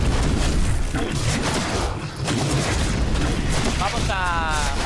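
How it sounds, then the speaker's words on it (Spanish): Rockets fire in the tower defense stage of the video game The Incredible Adventures of Van Helsing II. A dense, continuous barrage of booming blasts rumbles throughout, with a short warbling tone near the end and no clear talk. "Hasta dónde salen los cohetes"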